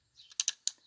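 A ratchet joint on a G1 Quickswitch clicks as it is angled down by hand, giving three sharp, close plastic clicks in quick succession with no talking.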